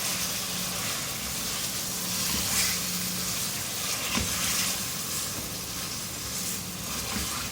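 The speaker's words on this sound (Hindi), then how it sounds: "फ्राई करेंगे इसको कि कलर चेंज हो जाए चिकन का" Chicken pieces with ginger-garlic paste fry in a pan, giving a steady close sizzle and hiss that runs unbroken throughout, with faint stirring clinks and no talking.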